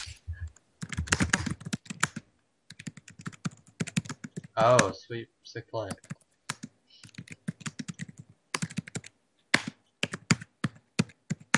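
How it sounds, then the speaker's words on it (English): Computer keyboard typing clatters in quick bursts of keystrokes separated by pauses, close and fairly loud, with a person briefly talking between bursts. "Dang, you're typing a lot."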